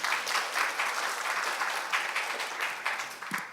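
Audience applause welcoming a speaker to the stage at a smart factory and Qlik Analytics business conference, a soft, even wash of many hands clapping from a moderately distant crowd.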